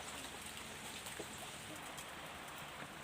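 Steady rain falling outdoors in cold, wet weather near a coffee plantation, a soft continuous hiss that stays fairly faint and even throughout, with no clear talk over it.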